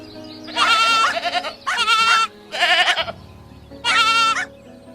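A baby goat bleats four times in close, loud, evenly spaced cries, each about half a second long, with quiet pauses between them.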